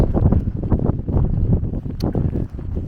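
Strong gusting wind blows over Irish sea cliffs, roaring and buffeting loudly against the microphone in close, uneven bursts.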